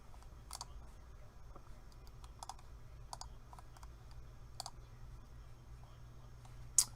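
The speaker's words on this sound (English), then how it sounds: "You're going to hear me typing" Quiet computer keyboard typing, irregular clusters of soft key clicks over a low steady hum, with one sharper click near the end, during severe weather coverage.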